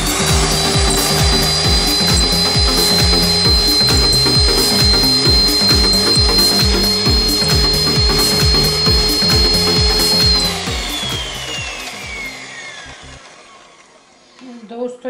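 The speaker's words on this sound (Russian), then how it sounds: "Так, взбиваем это блендером." An electric hand blender whips egg whites for a beer batter, a loud steady high-pitched motor whine with rhythmic scraping against the bowl that winds down and stops near the end.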